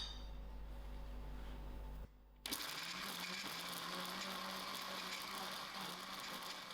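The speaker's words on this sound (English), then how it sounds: "I mixed all of my coconut and the other ingredients for the final blend" A blender whirs loudly and steadily, grinding coconut with two chilies, roasted dhal and salt into chutney, after a brief pause in its motor drone.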